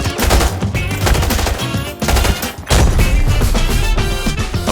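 Gunfire rattles through a firefight at a farm in Arena Breakout, rapid overlapping bursts of shots and booms, loud and close, with brief lulls between volleys.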